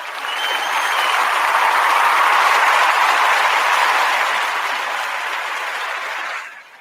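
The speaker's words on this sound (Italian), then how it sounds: "e mi faccio l'applauso da solo" Applause on an Italian radio broadcast, a steady roar of clapping that swells and holds loud and close for about six seconds, then cuts off abruptly near the end, with no voices over it.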